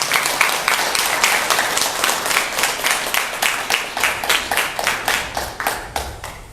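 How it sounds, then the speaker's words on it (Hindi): Loud, steady applause from an audience honouring a yoga session, dense clapping continuing without pause throughout and swelling in regular waves. "एक बार जोरदार तालियों से आप एक बार अभिनंदन करें"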